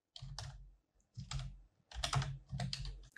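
Typing on a computer keyboard in four short bursts of rapid, close clicking separated by brief pauses, with no one talking.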